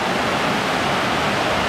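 Crabtree Falls, Virginia's tallest waterfall near Tyro, roars as a steady, dense rush of falling water from a trail viewpoint, loud and continuous with no voices.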